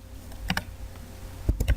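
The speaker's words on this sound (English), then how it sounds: "the next thing you want to do is type in your password." Short bursts of computer keyboard keys being pressed while typing a password, a few quick clicks near the start and a faster cluster near the end, quiet and close with no talking.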